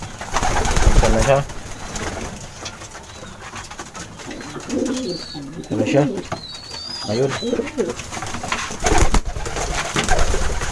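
A pigeon coos in soft repeated phrases close by, while people talk briefly over it at the start and end.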